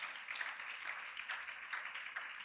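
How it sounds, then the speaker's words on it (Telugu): A congregation at a Christian prophetic ministry service claps hands in praise, a dense, steady wash of applause that carries on evenly for the whole stretch. "చప్పట్లు కొట్టి ప్రభువును మహింపరచండి"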